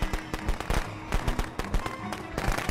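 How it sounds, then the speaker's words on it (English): Rapid sharp cracks and pops of video game firecrackers burst irregularly over a couple of seconds, loud and close. "You scared us of firecrackers?"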